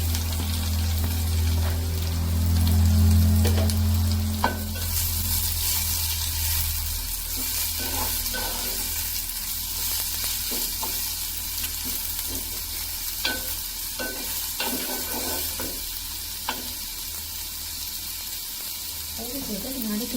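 Salmon frying in a pan with chopped onion added, stirred steadily: a continuous sizzle with scraping and knocks of the utensil, a low rumble early on, and faint voices at times.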